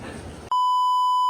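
A loud, steady censor beep tone cuts in suddenly after a brief stretch of muffled speech and holds to the end.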